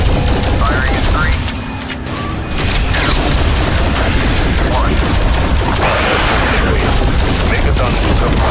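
Rapid automatic weapon fire with booming blasts from a Call of Duty Zombies game, dense sustained bursts throughout with a brief lull near the start, under game voice lines.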